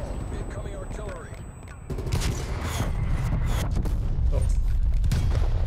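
Incoming artillery barrage in a video game, a continuous rumble of booms and crackling blasts building louder, with a brief spoken exclamation over it.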